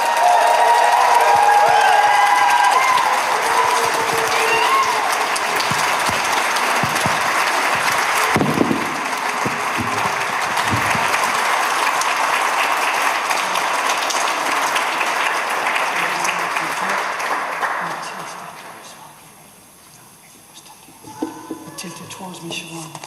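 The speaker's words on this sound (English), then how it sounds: "So I think we can give her a big round of applause there." A crowd at an LGBTI+ awareness week launch in Cork gives loud sustained applause with scattered cheers and a few thumps, which fades out near the end before some quiet movement.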